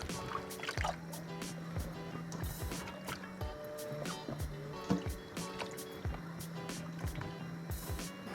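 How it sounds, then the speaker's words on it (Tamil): Cut aubergine pieces being drained out of salted water in a kitchen, with irregular splashes, drips and watery sloshing plus soft clatter, close and moderately loud, against faint background music. "இந்த கத்திரிக்காயை உப்பு தண்ணியில் போட்டு நான் இப்போ வடித்து எடுக்கிறேன்."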